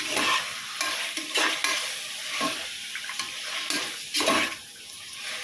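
Chicken frying in a pan for biryani is stirred with repeated scraping strokes over a steady close sizzle, with no talking.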